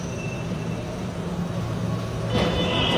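Interior of a moving train in Korea: a steady low rumble with rolling wheel noise, growing slightly louder and brighter near the end.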